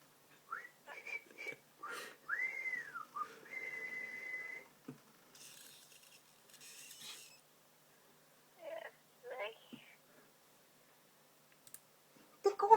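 Someone whistles a song in short melodic phrases, with sustained notes and sliding pitches separated by pauses, heard close and moderately loud. Faint clicks appear between the phrases.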